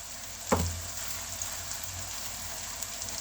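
Tomato chutney roasts in a pan with a faint, steady sizzle, close but quiet, opened by a single sharp clink of a utensil against the pan, with no talk.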